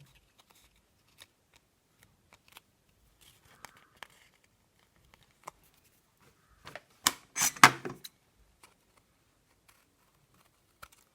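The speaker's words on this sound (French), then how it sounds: "Hop, on déplie et on vient couper l'excédent." Scissors snip away excess card paper on a handmade 3D greeting card, a short cluster of crisp cuts near the middle after scattered light clicks and paper handling, close and fairly quiet.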